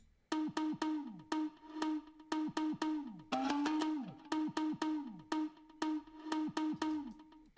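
Afro house music with reversed notes produced in Logic Pro X: short swelling tones with pitch bends repeat in a steady rhythm, quiet and somewhat distorted.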